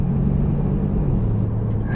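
A Mercedes-AMG car engine idles steadily in comfort mode, a low, even rumble holding close and constant for about two seconds with no revving.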